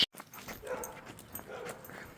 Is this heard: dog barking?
yes